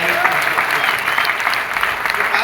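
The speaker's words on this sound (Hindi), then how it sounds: "ये तालियां मेरे अचीवमेंट के लिए बज रहा है" Sustained applause from an audience at a network marketing business gathering, dense steady clapping filling the room throughout without a break.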